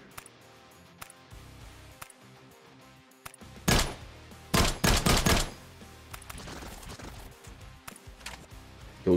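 A legendary AK-Alfa rifle in the mobile shooter New State Mobile fires in loud, closely spaced bursts of shots, with sharp impact and kill effects layered over a quieter in-game background of clicks and rustles.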